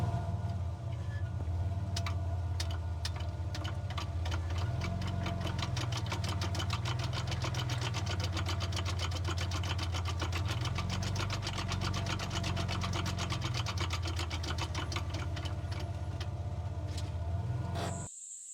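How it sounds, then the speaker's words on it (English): Lokka differential locker in the rear diff of a Ford Territory on a 4WD track, picked up by a road mic near the diff: a rapid steady clicking and whirring drivetrain rattle over a low droning engine hum, continuous until an abrupt stop. "So this is with the road mic attached to the diff, or closer to the diff."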